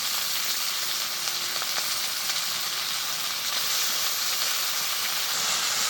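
Cut potatoes fry in a pan for a quick breakfast dish, giving off a steady, close, even sizzle and hiss with no voices over it.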